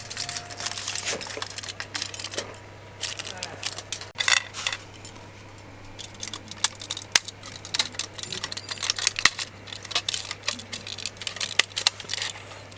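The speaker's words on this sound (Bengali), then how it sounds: "এখন ফয়েল পেপার দিয়ে কাপের মুখগুলো বদ্ধ করে দেব।" Foil paper crinkles and rustles in close, irregular crackling bursts as it is pressed over the mouths of cups of homemade watermelon ice cream, loud against a faint steady hum.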